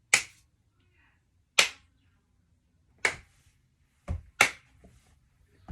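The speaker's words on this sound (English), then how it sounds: "Two claps" Crisp, close hand claps ring out alone in a quiet room, five sharp slaps spaced a second or more apart, the last two close together.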